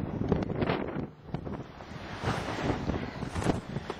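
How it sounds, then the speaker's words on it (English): Strong outdoor wind gusts during a winter snow storm roar steadily across the microphone, rising and easing over a few seconds with buffeting rumble and no speech. "We got some serious wind."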